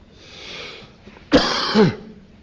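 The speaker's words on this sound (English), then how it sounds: "Excuse me, I have a little cough" A single harsh cough from a person with flu, preceded by a soft breath, sounds up close and loud, ending with a throaty rasp.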